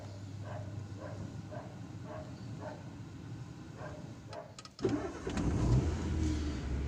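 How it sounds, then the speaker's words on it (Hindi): Car engine cranks with a rhythmic starter whir, then catches near the five-second mark and settles into a steady, louder idle close by, with no speech over it. "तो हम गाड़ी को स्टार्ट करते हैं"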